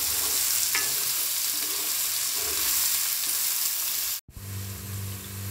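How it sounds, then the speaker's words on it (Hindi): Finely chopped medium onions fry in a pan with steady, close sizzling and occasional scraping stirs, broken by a brief silent gap near the end before the sizzle resumes more quietly. "प्याज को भी अच्छे से पका लेंगे इसमें।"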